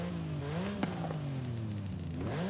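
A Porsche car engine revving in the Forza Horizon 5 racing game, a steady tonal drone rising and falling in pitch, with a sharp click partway through and a dip and climb near the end.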